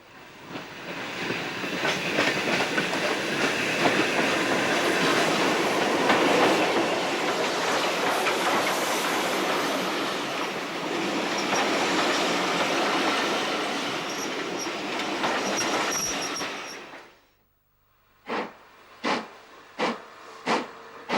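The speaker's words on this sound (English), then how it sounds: "Entering the station is a train from Alton, headed by British Rail Class 3MT locomotive" A steam train headed by British Rail Class 3MT 2-6-0 locomotive 76017 rumbles into a station loudly with a steady roar, hissing and clattering wheels, then falls quiet before several sharp bursts of steam chuffing.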